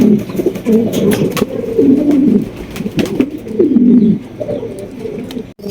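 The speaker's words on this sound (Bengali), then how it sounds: "এখানে রয়েছে আরো এক জোড়া মন্ডি গোবর" Mondi pigeons coo loudly and repeatedly at close range at a pigeon sale, with rolling throaty calls over a busy background.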